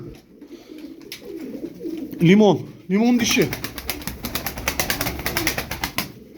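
Tumbler pigeons give two soft, rising coos close by while someone talks over them in Turkish, followed by a run of quick rattling clicks.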